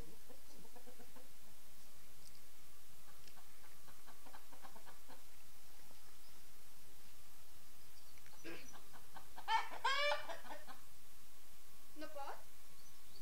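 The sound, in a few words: chickens and rooster clucking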